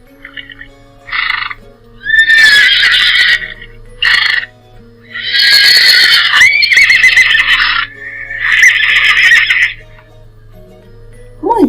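A horse neighs several times in a row, loud and close, with long shrill whinnies and shorter calls separated by brief pauses, and a low steady hum underneath.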